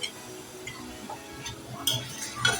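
Chilli paneer being stirred and sautéed in a pan, with soft scraping strokes and occasional utensil clinks over a low sizzle, close and fairly quiet, with no talking.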